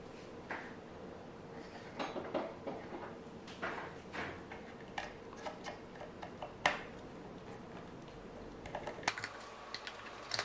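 Screws being removed one by one from the casing of an old computer speaker, giving a series of small clicking and scraping metal-on-plastic sounds in an irregular rhythm, close and fairly quiet, with no talking.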